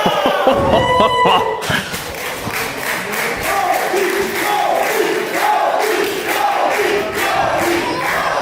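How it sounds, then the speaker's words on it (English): A wrestling event crowd in a venue in Wernigerode roars and cheers loudly throughout, with rhythmic chanting and clapping swelling in steady waves. A couple of thuds come near the start. "the crowd here in Wernigerode have been electric all night."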